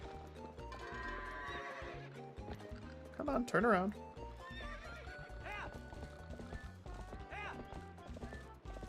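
Horse in Zelda: Twilight Princess whinnies loudly in a brief burst midway, with clip-clop hoofbeats and in-game music throughout while herding goats in a large field; someone talks over the game sounds.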